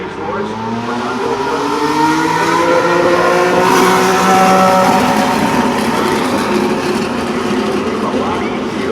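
An IndyCar race car on the track during the morning before qualifying in 2019, its engine note rising and falling as it passes, loud and sustained, with a commentator talking over it.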